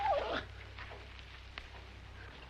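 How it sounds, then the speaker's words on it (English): A dog gives a brief high whimpering whine at the start, close but faint, followed by quiet room noise with a low steady hum and a few small knocks. "If you ain't the beatin'est dang dog I ever seen."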